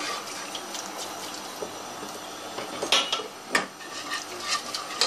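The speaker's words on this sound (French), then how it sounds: "Je vais rajouter le lait en remuant bien" Milk is stirred into a sauce in a hot saucepan, soft liquid swishing with light scrapes and clinks of the utensil against the pan, quiet and close, growing a little more active toward the end.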